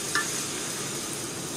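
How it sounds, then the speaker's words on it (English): Egg fried rice with egg and spring onions being stirred in a hot pan: a steady, fairly loud sizzling hiss with one brief utensil clink near the start and no talking. "And then you just want to stir it all together, cook it through about three to five minutes."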